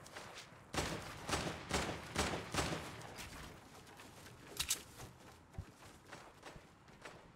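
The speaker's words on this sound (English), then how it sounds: "Where's all that shooting coming from then?" Rapid bursts of gunfire in a shooter video game, a run of sharp, fairly loud shots early on followed by scattered quieter pops against a steady background hum.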